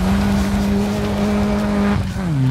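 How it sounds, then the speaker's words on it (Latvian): A rally car close by brakes, turns and accelerates, its loud engine holding a steady droning pitch with tyre noise, then dropping as it shifts. "Sabremzējam, atgriežam un iedodam gāzi."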